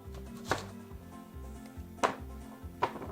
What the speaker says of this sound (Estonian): Ja pean hakkima